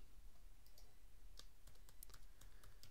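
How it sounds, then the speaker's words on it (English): Typing on a computer keyboard, a name entered as a string of light, irregular key clicks at close range over faint background hiss, with no one speaking. "Then we'll type in my name."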